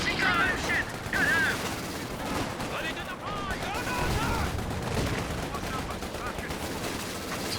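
Rapid machine-gun bursts and scattered gunfire from the real-time strategy battle game Company of Heroes 2 rattle steadily under continuous commentator talk, with metallic mechanical clatter mixed in.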